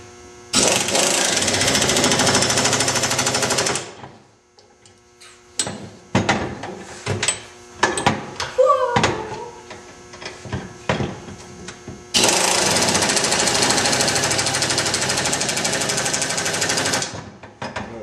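Impact gun tightening winch base-plate mounting bolts: two long loud bursts of rapid hammering, separated by a stretch of clanks, taps and handling noises, close and alone without talk.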